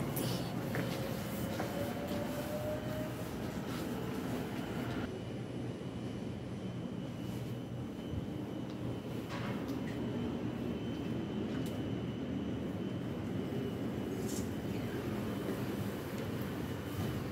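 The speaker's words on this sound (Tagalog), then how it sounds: "Sakay kami ng MRT." Riding inside an MRT train in Taiwan, a continuous loud rumble and rushing hum carries on steadily with faint rattles and squeaks from the carriage.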